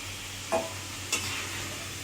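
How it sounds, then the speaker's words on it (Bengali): Potatoes frying in oil in a pan give a low, steady sizzle with two brief scraping stirs, fairly quiet and with no talking. "আলুটি একটু লালচে হয়ে এসেছে। আমি লালচে করে ভেজে এবার এটা তুলতে হবে"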